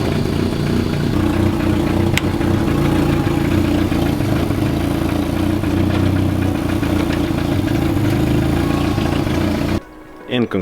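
Engine of a Volkswagen Caddy Mk1 pickup idling after a fuel system repair, a steady near rumble with a faint tick, holding evenly until it cuts off abruptly near the end.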